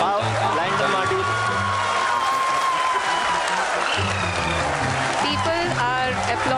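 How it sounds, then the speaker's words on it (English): An audience applauding during a live space-mission broadcast watching a lunar lander module: steady crowd clapping mixed under music and overlapping commentary voices throughout, constant in level. "People are applauding."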